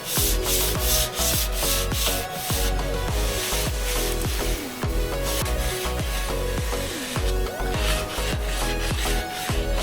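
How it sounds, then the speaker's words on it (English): Sandpaper of 400 grit rubs back and forth over the wooden surface of an old end table being refinished, a dense run of rhythmic scraping strokes, close and loud with no talk. "I sanded between each coat with using 400 grit sandpaper."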